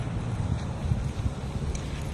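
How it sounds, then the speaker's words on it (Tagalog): Wind blows across a park in the Middle East, making steady low buffeting rumble against the microphone with no voices. "Medyo mahangin, medyo malamig ng konti yung hangin"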